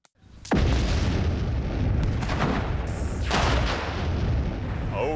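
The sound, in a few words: explosion of 50 pounds of dynamite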